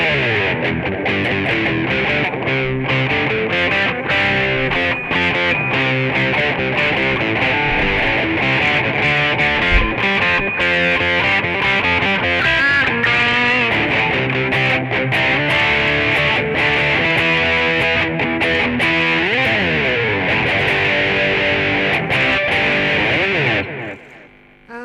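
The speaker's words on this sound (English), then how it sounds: "So let's try that with just the delay." A distorted electric guitar plays a sustained riff through a Roland Cube 10GX amp, notes smearing and repeating with a trailing delay echo, loud and continuous throughout.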